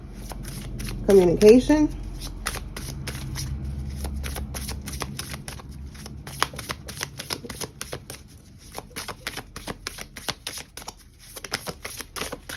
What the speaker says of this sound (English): Let's pull some cards from here.